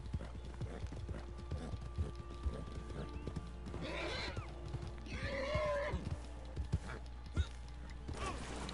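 Horse hooves clip-clopping in the video game Red Dead Redemption 2, a steady rhythmic trot punctuated midway by two loud whinnies, with low background rumble.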